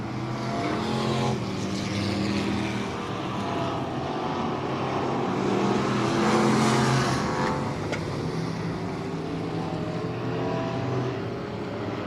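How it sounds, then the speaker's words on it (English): Touring outlaw modified race cars circle Heart O' Texas Speedway, a steady, loud engine roar swelling and fading as the pack passes, heard from a distance. "See if Willett can hold off the 601 of Cogburn for one more lap"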